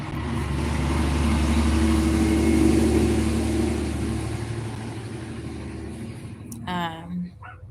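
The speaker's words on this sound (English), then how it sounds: "let the loud traffic pass through." A loud, steady rush of road traffic passing close by, swelling and then fading, with a brief voice near the end.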